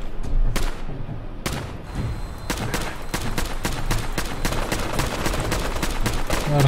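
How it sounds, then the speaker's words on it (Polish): Gunfire in the video game Fallout 4 aimed at a flying enemy, a steady series of sharp, loud shots at an even rhythm, some spaced apart early, then quicker repeated blasts. "Walimy w tego latacza do oporu"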